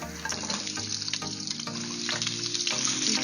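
Ginger slices and shallots fry in hot oil for a Thai seafood stir fry, giving a steady close crackling sizzle with a low hum underneath, no voices.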